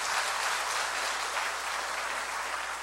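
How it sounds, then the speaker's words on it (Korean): A church audience bursts into sustained applause, a dense, even wash of many hands clapping continuously at close range with no voices standing out. "박수 한번 보내주세요"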